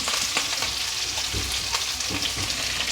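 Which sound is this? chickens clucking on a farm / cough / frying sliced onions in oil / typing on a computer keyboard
frying sliced onions in oil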